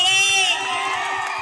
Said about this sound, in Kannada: ಒಂದ್ಸರಿ ಹುಲಿಗಳ ಜೋರ ಚಪ್ಪಾಳೆ.